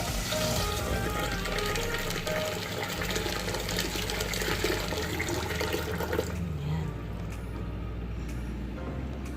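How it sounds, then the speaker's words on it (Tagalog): Water pours steadily into a pot of boiled pork trotters for a Filipino pork stew, a continuous loud rushing splash that runs for several seconds and then cuts off, leaving quieter background. "Bigyan natin ng tubig."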